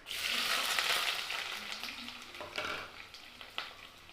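Green chili and onions frying in hot oil with mustard seeds, a dense steady sizzle loudest at first and easing slightly, with faint stirring scrapes and taps near the end.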